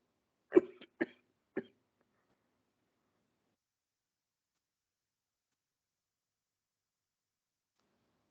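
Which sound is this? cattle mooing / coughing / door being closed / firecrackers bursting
coughing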